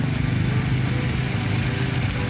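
A contest motorcycle engine runs at a steady idle, close and fairly loud, with an even buzzing drone that holds without change for a couple of seconds.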